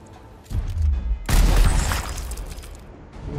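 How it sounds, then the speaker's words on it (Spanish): A single gunshot from the turn-based video game Gears Tactics, a booming blast with a heavy low-frequency tail, preceded by a smaller thump and followed by fading rumble. "Un solo disparo."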